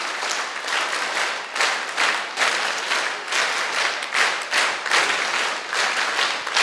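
An audience at a campus motivational speech claps together, producing dense, steady applause in rolling waves that holds strong for several seconds.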